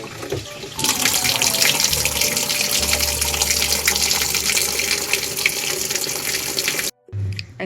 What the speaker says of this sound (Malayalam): എന്തായാലും വാഷിംഗ് മെഷീനിൽ വെള്ളം പിടിച്ചിടാം.